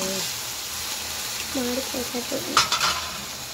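Tomato rice with chicken masala being stirred and fried in a pan: a close scraping of the spoon over a steady sizzle, with a short hum-like voice sound and louder clatter near the end.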